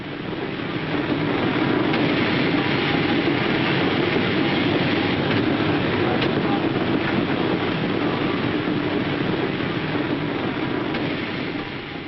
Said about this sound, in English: just in time, here's their train